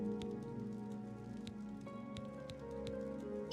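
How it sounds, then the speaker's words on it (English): Rain falls in the video game Oblivion Remastered, a soft, steady wash of patter with scattered drop ticks, faint and even throughout, no speech. "Rain."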